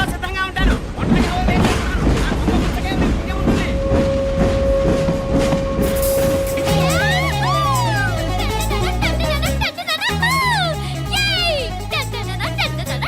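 A passenger train at a station in a Telugu film scene rumbles steadily throughout, mixed under voices and a swelling music score, with a long whistle-like tone partway through.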